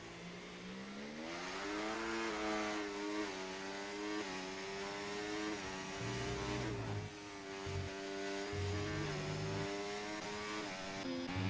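Formula 1 race cars from the F1 24 video game on the Chinese Grand Prix circuit, a steady high engine whine with rising and falling pitch as gears shift, plus lower engine tones passing in the later seconds.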